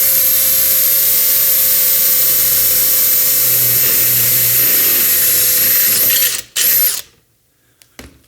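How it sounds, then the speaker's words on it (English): A power drill bores a single hole through the first wall of a launcher box on a robot chassis, a steady loud whir running about six seconds before cutting off, followed by a short burst and near silence. "Okay, and this one, we're only drilling through the first wall."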